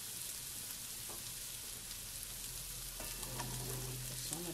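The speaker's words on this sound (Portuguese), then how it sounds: "Como a carne seca já está pronta, eu já vou entrar com a cebola." Onion goes into a sizzling pan of dried meat, producing a steady, close frying hiss with faint clicks of movement and a low background hum throughout.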